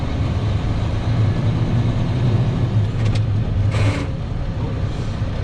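Heavy truck engine driven by a rookie CDL trainee, revving and pulling steadily as it accelerates through a gear shift, a continuous loud low rumble with brief hiss-like bursts partway through.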